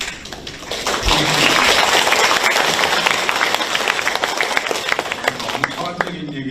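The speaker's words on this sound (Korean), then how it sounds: "여러분들이 박수 치는데도 좀 뜸을 들이시네요" An audience at a political talk concert in 2023 breaks into sustained, dense clapping that swells and holds for several seconds before thinning out, with a speaker's voice around it.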